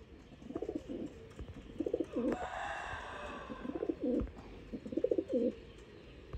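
Pigeons at a bird seller's coop coo in repeated low rolling bursts close by, with a brief brighter rustle or flutter midway and no talking.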